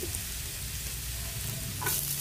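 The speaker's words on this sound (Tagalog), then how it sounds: "Ilagay ko na yung bawang. Yan, igisa ko muna ang bawang." Garlic sautés in hot oil in a pan, a steady close sizzle and crackle that continues throughout the short stretch with no talking.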